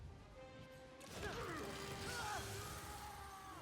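A glass floor shattering in the Marvel's Spider-Man video game, a loud crashing burst of breaking glass with tinkling debris and swooshing movement, set against a low game score.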